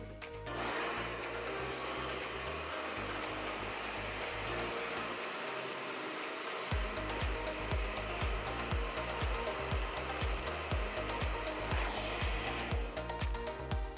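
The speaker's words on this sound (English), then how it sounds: "your dryer will follow your brush like brother and sister, and you dry everything inside" A hair dryer blows steadily and loudly while hair is brushed through during a salon-style blow-dry, its airflow wavering as the brush moves, with rhythmic brushing pulses in the second half.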